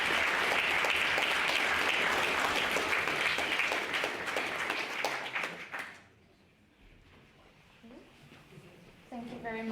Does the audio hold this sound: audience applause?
yes